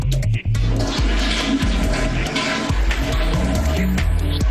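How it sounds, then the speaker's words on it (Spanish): A toilet cistern flushing, water rushing loudly and steadily into the bowl from close by for several seconds, with gurgling swirls throughout and no voices. "Cuando se tira de la cadena, hay otra cadena que eleva la válvula de nivel y destapa el desagüe"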